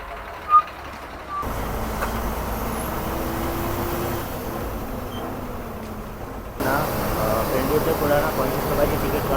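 A bus pulls in on a rough road at the weekly market in Kudal, Sindhudurg, during the Konkan monsoon: a steady, fairly close diesel engine rumble that swells louder near the end, with faint voices and a brief beep.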